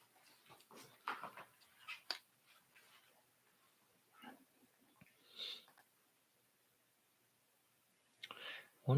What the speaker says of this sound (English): It's my dog making noises.